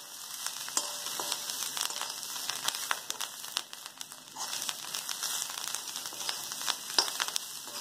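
Green chillies roast in a pan on a gas stove for a green chilli thecha, giving a quiet, steady sizzle broken by crackles and stirring scrapes, with no talking.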